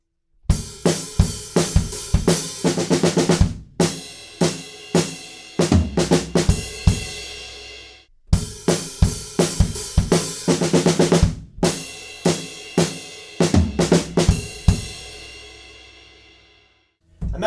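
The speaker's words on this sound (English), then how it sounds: "at the end of that, we're going to have triplets to build up," A drum kit plays a loud, close groove with sharp repeated hits that builds into a rolling triplet fill, the pattern repeating twice with brief pauses between phrases.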